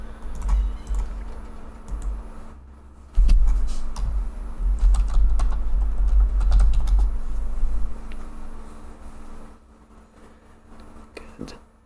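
Steady typing on a computer keyboard at a desk during a Lord of the Rings Online game session, with continuous close, clattering key presses, a brief pause near the end, and faint game sounds underneath.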